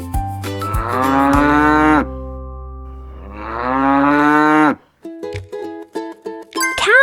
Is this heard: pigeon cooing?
no